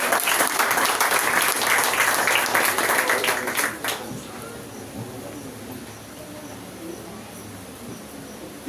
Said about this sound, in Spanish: Un aplauso para el pastor Daniel, de cariño.